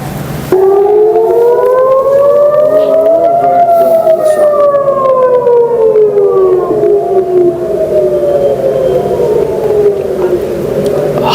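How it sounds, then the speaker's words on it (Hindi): A civil defense air raid siren wails over Israel, loud and sustained, its tone rising slowly and then falling in a long continuous sweep that lasts the whole time with no talking. "हर तरफ सिर्फ सायरन सुनाई देगा इजराइल में।"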